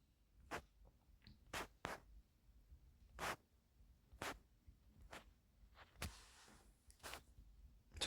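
Pen strokes on paper while a math exercise is written out in columns, a series of short separate scratching bursts at irregular intervals, close and alone.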